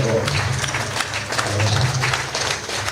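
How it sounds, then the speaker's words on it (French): A crowd at a gathering in Cotonou claps, a dense, fairly loud, continuous burst with voices murmuring underneath throughout. "Applaudissez pour moi-même d'abord."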